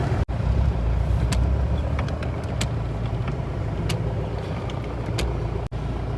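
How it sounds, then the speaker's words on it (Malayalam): Rescue vehicles and ambulances on a road at a landslide-hit area in Wayanad, Kerala, a continuous rumbling engine and road noise of traffic rolling past at close range, with scattered clicks and no speech. "അവിടുന്ന് രക്ഷാപ്രവർത്തനത്തിൻ്റെ വണ്ടികളും ആംബുലൻസും ഒക്കെ ഇങ്ങനെ പോയിക്കൊണ്ടിരിക്കുകയാണ്"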